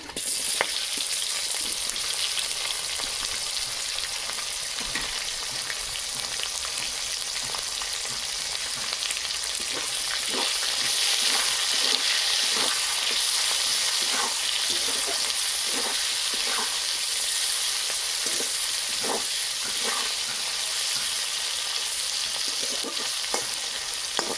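Chopped onions frying in hot oil with bay leaf, cloves, black pepper and cardamom, a continuous close sizzle broken by scattered stirring scrapes and clicks, with no talking.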